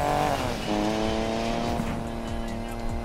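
Car engines roar through a tunnel in Need for Speed Payback, loud and close, with revving pitch that rises and falls and a faint squeal of tyres, heard alone with no talking.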